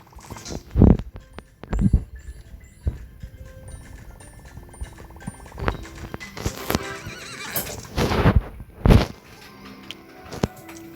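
Horse neighs and clip-clopping hooves from the Star Stable horse-riding video game: several loud whinnies spread across the stretch, with hoof steps and soft game ambience between them, no talking.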